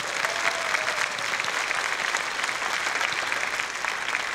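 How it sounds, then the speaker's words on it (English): Audience applause at a conference panel discussion, steady and dense throughout, filling the hall without any talk over it. "if we can give them a big round of applause."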